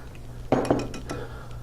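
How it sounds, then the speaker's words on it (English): Ingredients are stirred in a bowl with a utensil while making breakfast burritos, a short burst of a few clinking scrapes against the bowl, close and alone. "I'm going to mix it up real good."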